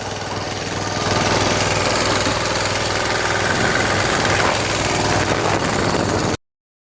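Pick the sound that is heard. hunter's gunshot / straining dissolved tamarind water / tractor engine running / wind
tractor engine running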